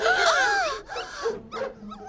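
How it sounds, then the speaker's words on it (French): A pack of cartoon dogs yelps and howls close by in rising, wavering cries, a long wail followed by shorter bursts. "On dirait plutôt une meute de chiens."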